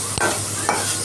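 Grated carrot fries in ghee for halwa, a loud, close sizzle with two quick stirring scrapes in about a second, and no voices.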